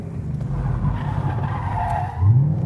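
A car drifts with its tires skidding, a sustained loud squeal over the engine's rumble that rises in pitch near the end, heard close with no voices.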